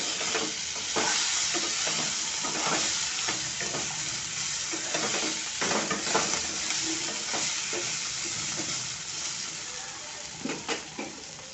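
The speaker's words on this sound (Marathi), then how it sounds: "परत त्याला थोडं हळू हाताने परतूया" Stuffed gunda vegetables fry in a pan with a steady sizzle while a utensil stirs and scrapes them at a gentle, uneven rhythm, close and moderately loud, with no talk.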